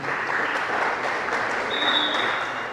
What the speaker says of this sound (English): please can you give yourself a round of applause once again